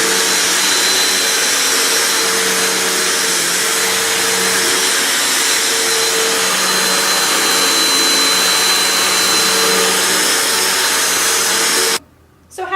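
A vacuum cleaner runs steadily with a constant loud whine and droning hum, then cuts off abruptly near the end.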